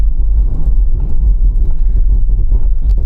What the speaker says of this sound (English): Full emergency stop now.